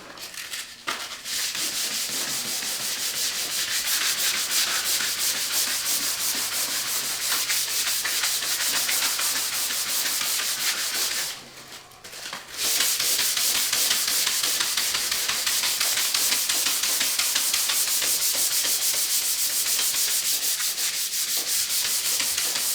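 Hand sanding primer with P240 sandpaper, a steady close scratchy rubbing stroke that runs continuously, pausing briefly once midway before resuming at the same pace.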